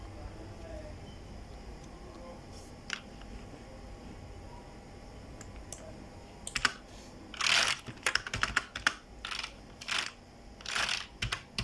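Computer keyboard typing a message: a few isolated key presses at first, then a quick flurry of clicks and taps in uneven bursts, close and fairly quiet.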